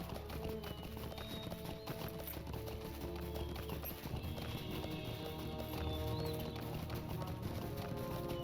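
Horse hooves clip-clop in the online game The Lord of the Rings Online (LOTRO), a steady run of hoof beats under looping game music and ambience, fairly quiet throughout.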